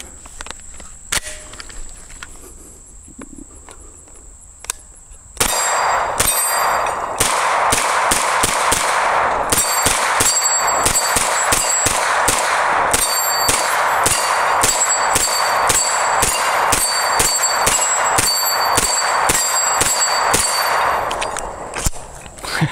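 CZ Scorpion fired with a 30-round black windowed magazine, a rapid string of sharp, loud shots in steady succession after a few quiet seconds, continuing for about fifteen seconds.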